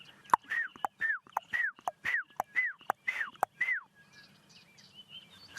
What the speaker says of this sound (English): that is the black-backed puffback